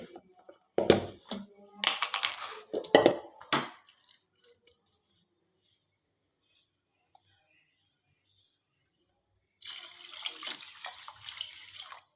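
Water splashes into a cooking pot in short bursts, then silence, followed by a longer stream of pouring water, added to rice for mutton biryani.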